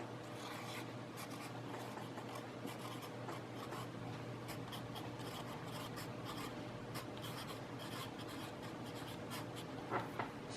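A new Sharpie Extreme fade-resistant marker writing on canvas, a continuous soft scratchy scrawl of strokes with brief pauses, close but quiet, with no voice.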